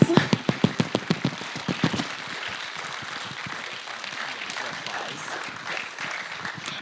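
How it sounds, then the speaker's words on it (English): Audience applause at a film festival grand final in a cinema, starting with loud, sharp claps that soften after two seconds into a steady, even wash of clapping from a large crowd. "give yourselves a round of applause"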